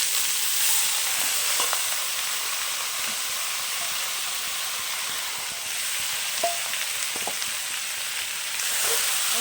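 Pumpkin greens dropped into a pan of fried onion and garlic set up a steady, loud sizzle. It hisses without a break the whole time, and a few faint stirring clicks come through. No one speaks.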